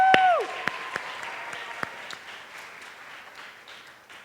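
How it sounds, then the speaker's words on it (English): An audience gives a round of applause at a school math fair. The clapping fades from a full burst to a thinning patter, with a few sharp individual claps standing out. "A round of applause."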